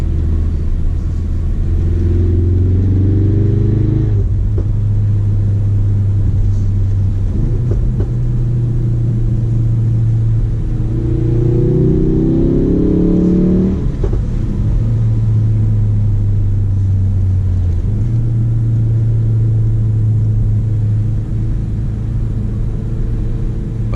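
A 2018 Ford Focus RS's exhaust booms as it accelerates through the gears of its manual gearbox, pitch climbing then dropping at each shift, loud and close.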